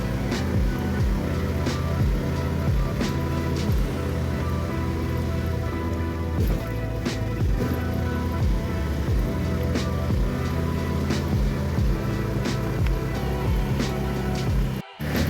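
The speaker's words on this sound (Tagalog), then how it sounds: "biglang bumuhos yung malakas na ulan ulit" Heavy rain pours steadily, drumming on a surface nearby, with a constant rushing wash and a low rumble of traffic underneath.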